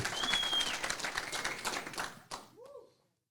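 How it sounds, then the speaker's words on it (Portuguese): A church congregation applauds during a sermon, a dense, steady wash of clapping for about two seconds before it breaks off abruptly into near silence, with a brief high whistle near the start. "Se é para Jesus, aplaude de verdade."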